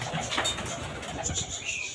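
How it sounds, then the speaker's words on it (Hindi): Aseel pigeons coo softly and repeatedly nearby, with a little rustling and faint chirps in the background. "सारे कबूतरों को बाहर निकालते हैं, उनको दाना वगैरह डालते हैं"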